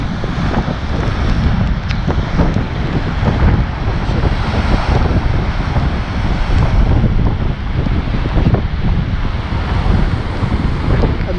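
Heavy, dangerous sea waves surge and crash against the shore and breakwater blocks near the Hassan II Mosque and marina in stormy weather. A continuous loud roar is mixed with strong wind buffeting the microphone.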